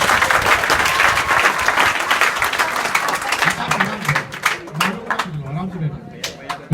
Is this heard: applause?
yes